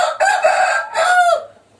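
A young fighting rooster crows twice in quick succession, loud and close, each call a strained, ringing cock-a-doodle-doo with no voices over it.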